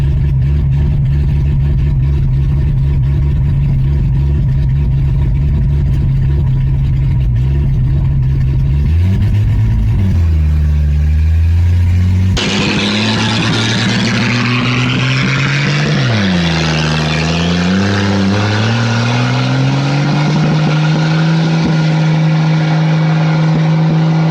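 A 1965 Rambler American engine runs loud and close with a steady idle drone, then revs up to high RPM in rising and falling surges.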